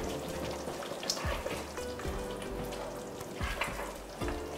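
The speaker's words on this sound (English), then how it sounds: "we're gonna let this kind of simmer, kind of cook for about like another 5-10 minutes" Island-style lamb and potatoes simmering in a pot give a soft, steady bubbling and light sizzle, faint and close, with no voices.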